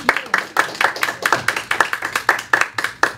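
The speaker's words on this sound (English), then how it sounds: "Give her a round of applause." Audience clapping after a summer lecture, a small group giving a steady round of applause with distinct, close hand claps at a brisk, even rhythm and no talking.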